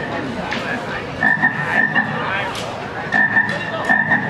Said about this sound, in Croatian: Tu nutra je jedna velika žaba